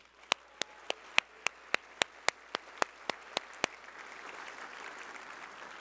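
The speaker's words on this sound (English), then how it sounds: "how about a round of applause for everybody in the room?" Slow, evenly spaced single claps, about a dozen of them, ring out at an awards evening. They stop and give way to a rising low murmur of audience noise.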